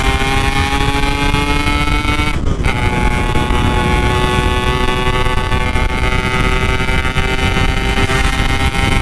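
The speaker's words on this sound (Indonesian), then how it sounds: "Di sini dia mulai naik motornya bisa kenceng nih" A motorcycle engine revs loud and close while riding through Banyumas and Kebumen, a steady high-pitched droning whine with a brief dip around the middle, no talking.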